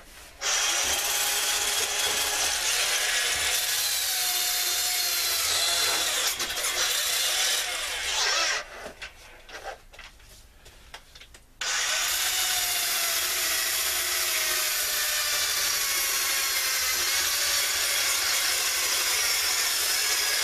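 Power tool stripping rust from an old PC case grinds with a loud, bright, continuous abrasive whir, cutting out briefly into scattered scraping before roaring back on and running steadily to the end.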